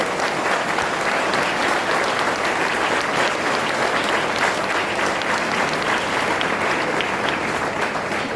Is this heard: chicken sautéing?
no